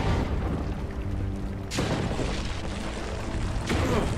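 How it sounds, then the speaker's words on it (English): In the video game Fictorum, a house is blasted apart with two heavy crashing booms, one midway and another near the end, over a steady rumbling backdrop of crumbling debris. "you can just destroy the house"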